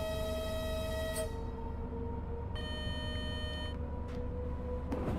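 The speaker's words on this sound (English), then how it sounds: "It's funny that the vigilance is almost as loud as the horn." A loud, steady electronic vigilance alarm tone sounds in the Train Sim World 6 simulator on the Liberec to Stará Paka line in the Czech Republic. It holds continuously with shifting harmonic layers, alone and without talk.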